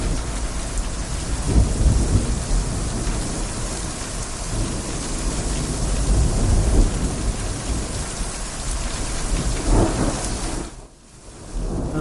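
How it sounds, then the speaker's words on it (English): A thunderstorm over a town, with heavy steady rain pouring down and low rolling thunder swelling in several broad rumbles, dense and close, then a brief lull before the downpour resumes. "unfortunately a thunderstorm assaulted my hometown."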